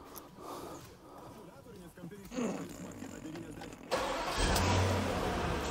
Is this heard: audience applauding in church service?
no